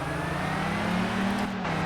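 Car on a bumpy dirt-and-tarmac track, engine droning steadily and close as it brakes and shifts down into third then second, pitch stepping near the end, with no talking.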